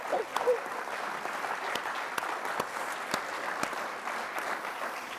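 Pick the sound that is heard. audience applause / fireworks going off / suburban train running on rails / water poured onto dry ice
audience applause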